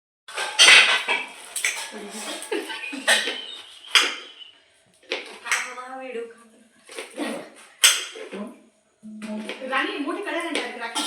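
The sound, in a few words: big kadhai and pots clanking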